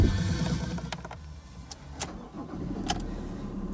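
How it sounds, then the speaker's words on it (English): A 2013 Ford Ranger XLT 4x4 engine cranks and fires into a low, steady idle, heard from inside the cab, fairly quiet, with a few clicks and small knocks over it. "Just start the vehicle."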